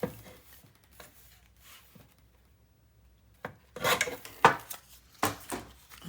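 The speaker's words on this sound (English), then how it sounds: "So I'm just going to do a real quick trim" Paper being trimmed for a scrapbook album, a few quick rasping cuts and rustles up close after a quiet stretch.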